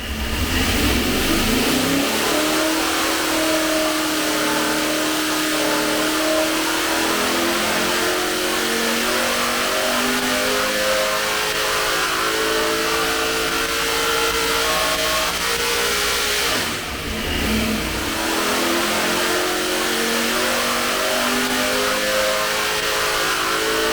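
An A-Mod race car engine on a dynamometer after a timing change to 34 degrees before top dead center, revving loud and sustained with a rising pitch sweep, a brief dip mid-run, then pulling hard again.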